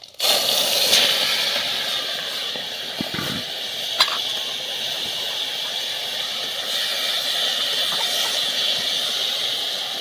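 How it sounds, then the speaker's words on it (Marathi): Garlic, mustard seeds and cumin frying in hot oil for a vegetable dish, a steady close hiss and crackle with one small knock, no talking. "भाजीसाठी आता मी तेल टाकले त्याच्यामध्ये लसूण पण टाकला आहे सोबतच मोहरी जिरे पण टाकून घेऊ"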